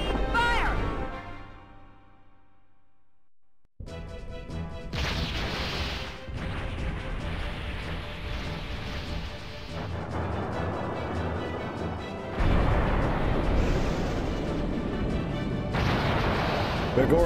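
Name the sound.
ship cannons firing in video game Skies of Arcadia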